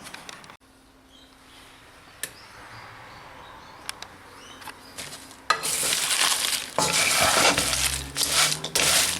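Big thick herbs heating in a wok for a kung fu conditioning liniment, quiet at first with a few light taps and clicks, then a loud, steady hissing sizzle that rises midway and continues to the end.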